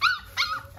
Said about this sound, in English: I'm about to show y'all all of these puppies.